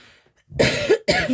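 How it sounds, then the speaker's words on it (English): Two harsh, close coughs in quick succession after a brief quiet moment, loud and dry. "I have a little bit of a cough."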